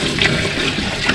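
Water poured into a bathroom drain during cleaning, a steady close splashing and trickling rush with no pauses.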